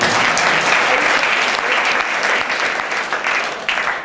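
An audience at a Jain monk's religious discourse in Kopargaon breaks into loud, dense applause, a continuous roar of many clapping hands that stays strong for several seconds with slight dips.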